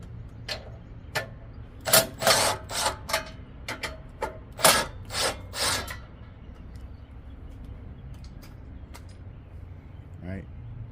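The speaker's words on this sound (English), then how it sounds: "They're 14mm bolts. Go ahead and take those off." Two 14mm bolts being loosened and removed from the cover of a Billy Goat PR550-H professional power rake, giving a run of sharp ratchet clicks and metallic taps in quick bursts, close up, then quieter handling.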